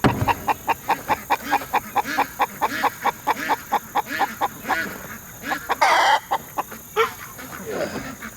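Guinea fowl calling in a rapid, regular series of loud, harsh, near cackles that run on with almost no pause, with a brief burst of noise partway through.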